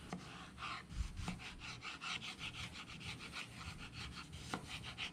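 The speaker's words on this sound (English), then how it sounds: "If you have a sharp knife, you cut long ways, real thin chips." A sharp knife slices a plantain lengthwise into thin strips on a cutting surface, making soft, steady rhythmic scraping cuts, close and fairly quiet, with no voices.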